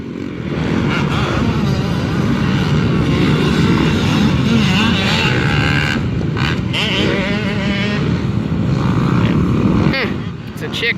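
Several motocross bikes, one fitted with dual Yoshimura exhausts, ride at Evergreen Speedway, their engines droning loud and steady for the whole stretch, rising and falling as they pass near.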